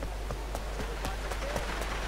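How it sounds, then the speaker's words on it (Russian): Heavy rain in Grand Theft Auto IV, a steady hiss of downpour with a low constant hum beneath and faint scattered clicks. "Ой, ливень что-то пошел."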